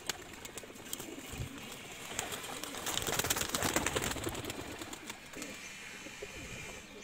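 Teddy breed pigeons cooing inside a loft, soft low coos and bird calls rising in the middle with faint rustling and occasional wing movement, at a moderate distance and fairly quiet.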